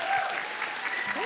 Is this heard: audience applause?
yes